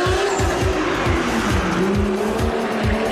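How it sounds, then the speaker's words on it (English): A rally car brakes hard at a motorkhana stage during a Victorian rally, tires skidding and squealing loudly over a droning engine whose pitch sags as it slows, close up and continuous. "Ed, you don't want to run out of brakes here at the Shearform Motorcana"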